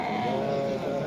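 Sheep bleating at a busy livestock market in Kurgontepa, Sultonobod, a steady wavering bleat held for about a second over dense crowd noise and murmuring voices.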